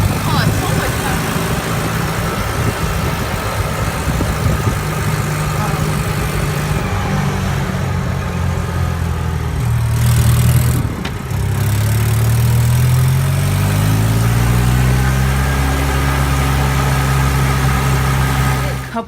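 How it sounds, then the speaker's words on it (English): A golf cart engine with a replaced carburetor, throttle worked by foot, idling steadily, then revving, dropping off and rising again in pitch, close and loud throughout. "As you can see, you can control the gas with your foot. So now it's like quarter throttle, this is like full throttle."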